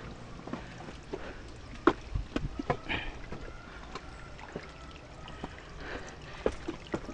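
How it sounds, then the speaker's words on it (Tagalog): Water trickles and splashes through a government-built canal beside a mountainside, with faint, uneven gurgles and occasional louder splashes against a soft outdoor background, and no talk. "Dito na kasi dumadaan yung tubig."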